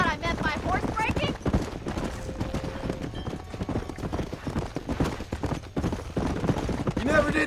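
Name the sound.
horses galloping in Red Dead Redemption video game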